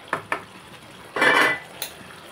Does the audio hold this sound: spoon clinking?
yes